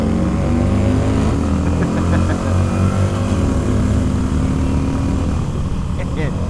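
A Harley-Davidson motorcycle accelerating along a straight, its engine a loud, steady low rumble that climbs gradually in pitch, heard up close from the bike with wind noise.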